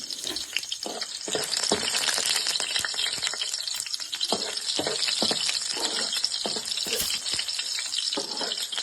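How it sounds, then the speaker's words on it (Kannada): Garlic frying in a little oil hisses and sizzles steadily throughout, broken by repeated scraping and stirring knocks from a utensil in the pan, close and fairly loud with no talking. "ಸ್ವಲ್ಪ ಎಣ್ಣೆಯಲ್ಲೇ ಫ್ರೈ ಮಾಡಬೇಕು ಬೆಳ್ಳುಳ್ಳಿ."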